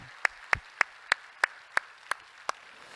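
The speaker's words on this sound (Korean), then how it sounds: "제빵팀 한번 격려 박수하겠습니다." A church congregation claps in unison to encourage the baking team: eight sharp, evenly spaced claps about a third of a second apart, crisp and fairly close, with no talking.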